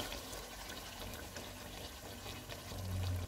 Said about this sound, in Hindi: इसमें फेंटा हुआ दही डालेंगे,